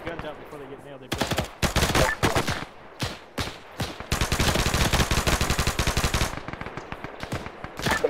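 Sustained automatic gunfire and rapid rifle bursts crackle through an Arma 3 World War II infantry firefight in a town, loud and dense, with short pauses between volleys.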